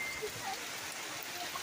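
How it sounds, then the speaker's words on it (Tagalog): Heavy rain pouring down outdoors during a charity gathering, a soft continuous patter heard at a distance with faint sounds of people nearby. "Ay, grabing ulan talaga, oh."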